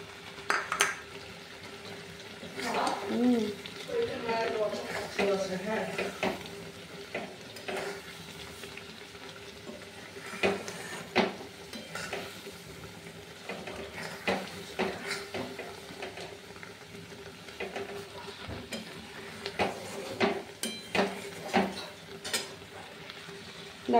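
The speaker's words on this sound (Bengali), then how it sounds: "দেখো আমি এখানে ভাজা মশলাটা অ্যাড করে দিয়েছি।" A fried spice mix being stirred into a raw mango dish in a pan: scraping spoon strokes and light clinks over a soft sizzle, steady and close for the whole stretch.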